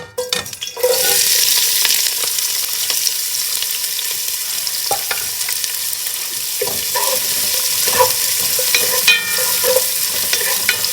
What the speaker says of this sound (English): You just stir this and continue cooking this until the onion has softened.